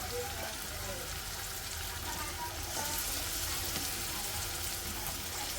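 Garlic masala frying in oil with turmeric and tomatoes, a steady close sizzle and crackle running unbroken throughout, fairly faint and even with no talking over it.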